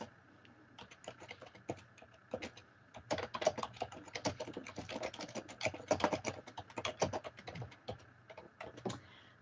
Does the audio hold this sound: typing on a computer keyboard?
yes